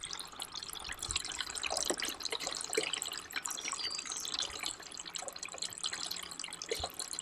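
Water pumped through an off-grid homestead gravity water system gushes and splashes in a steady, fairly loud rush, with scattered drips and trickles across the whole stretch.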